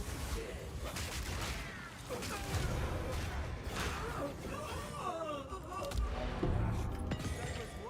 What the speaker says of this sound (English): Oh, the explosions are hitting her.